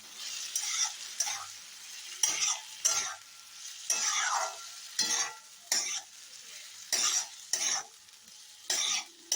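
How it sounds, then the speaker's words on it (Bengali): Potatoes cooked down with spice masala in a pan while being stirred: bursts of loud sizzling and scraping come in an uneven rhythm, roughly a dozen strokes, with quiet gaps between, close by and without speech. "খুব ভালো করে আমি মশলাটার সঙ্গে আলুগুলো কষিয়ে নেব"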